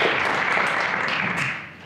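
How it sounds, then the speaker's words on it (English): An indoor audience at a historical society meeting applauds local firefighters with a dense, steady burst of clapping that fades toward the end. "let's give them a round of applause"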